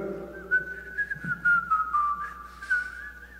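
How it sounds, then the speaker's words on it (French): Congregation members in a church during a Sunday Mass whistle a wavering melodic line, clear and close in a quiet room, with short breaks between phrases. "Sifflez donc les uns pour les autres pour voir si vous avez un talent ou vous avez d'autres choses."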